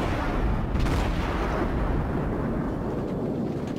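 Naval artillery fire in the World of Warships game, a heavy continuous rumble of distant cannon booms rolling together into a dense low roar throughout.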